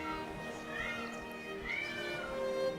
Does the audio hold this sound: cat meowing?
yes